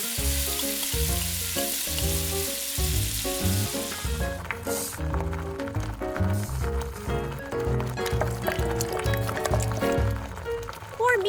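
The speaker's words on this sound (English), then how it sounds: "Add tomato sauce to a hot pan." Tomato sauce sizzles and crackles in a hot pan in a miniature kitchen, a constant bright frying hiss that runs throughout under rhythmic background music.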